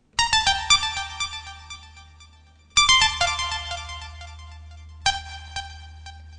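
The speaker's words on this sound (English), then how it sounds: "we'll be adding an arpeggiator with some delay noise and delay panning" Three bright synth arpeggio bursts from a ready-made Ableton rack blip, with delay repeats panned left and right. Each run starts with a sharp attack and then tails off in echoing decays over a steady low drone.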